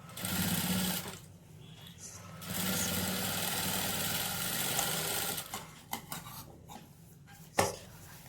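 A sewing machine stitches a sleeve onto a top, running in steady rapid bursts with short pauses and small clicks between runs, close and fairly quiet.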